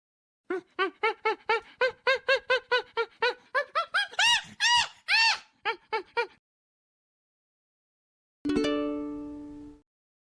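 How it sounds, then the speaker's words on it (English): A monkey gives a rapid series of high, squeaky chattering calls, about two dozen short yelps in quick rhythm, loud and close, then silence and a brief ringing chime. "Monkey."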